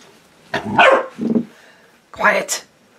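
Puppy barking indoors at home while a cat pesters it: a few short, fairly loud barks in two clusters, with a quiet pause between them.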